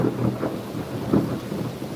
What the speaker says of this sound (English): I think that was a bit of lightning and thunder.